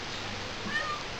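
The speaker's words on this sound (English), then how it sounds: "And then my cat Remy wants to get on camera" A house cat gives one short, soft meow partway through, heard close over a steady background hiss.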